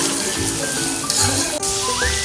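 Onions for chicken biryani fry in hot oil, a steady close sizzle with light stirring and clinking over a few seconds, alone without talk.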